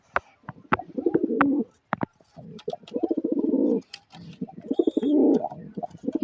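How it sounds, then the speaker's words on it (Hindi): Several pigeons coo repeatedly in throaty, rolling phrases nearby, mixed with sharp clicks and fluttery taps between the calls. "ये नवा जोड़ा लगाया है"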